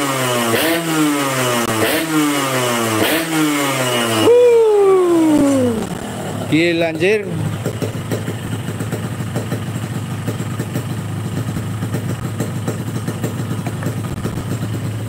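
A motorcycle with an aftermarket exhaust revs repeatedly with a loud, rasping exhaust note, climbing and dropping in pitch, then settles into a rough idle; a voice briefly exclaims.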